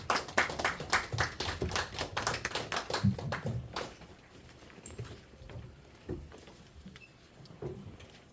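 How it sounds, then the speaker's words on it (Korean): A burst of audience clapping at a church leaders' New Year press conference with reporters, fairly quiet and a bit sparse, dying away after about four seconds into scattered claps and faint room noise. "큰 박수로 맞아주십시오."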